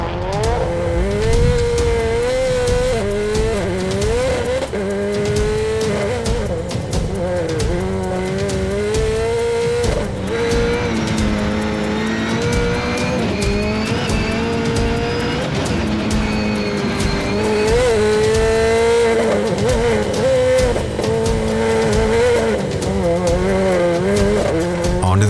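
A race car with wings and full slick tires on a mountain hill climb heading onto dirt, its engine roaring loud and steady throughout with shifting revs and occasional tire squeal, close and continuous.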